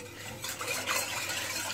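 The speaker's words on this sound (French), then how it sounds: "je remue très bien jusqu'à dissoudre le sucre dans de l'eau" Sugar gets stirred into water in a pot with a spoon, giving a soft, continuous swishing and scraping close by, unbroken and with no talk.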